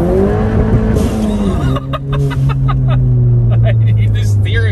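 A heavily modified Ford Fiesta ST with an aftermarket exhaust and blow-off valve drives hard, its engine note loud and close, rising and falling steadily through the run.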